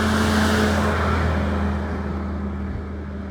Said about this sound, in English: I'm gonna let this truck pass by